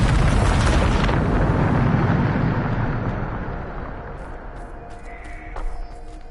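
A Bombarda spell explosion in Hogwarts Legacy booms loud and broad at first, then fades into a long rumbling decay, with a few faint bird-like chirps near the end.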